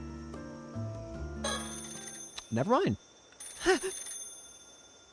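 In the Paranormasight video game, a telephone rings with warbling electronic trills, in two separate bursts over game music, while a voice speaks briefly between them.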